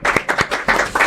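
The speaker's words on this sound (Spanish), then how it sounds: "Me encantan estos aplausos." Studio audience on a Chilean TV talk show claps in bursts, several strong surges of handclaps rising and falling across a second, close and fairly loud with no talk over it.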